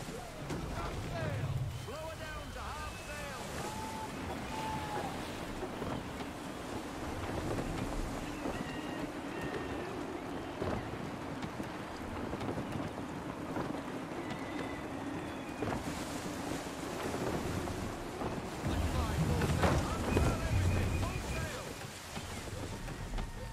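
In the Assassin's Creed III game, a sailing ship moves across open sea with steady gusting wind and rushing water, and character voices speak over the sound.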